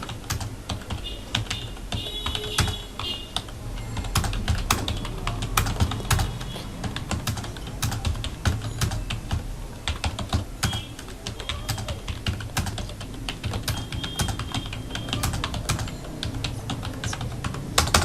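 Someone types a letter in MS Word on a computer keyboard, producing close, rapid, uneven clicks of keys with frequent louder taps. The clicking runs continuously for the whole stretch with brief pauses.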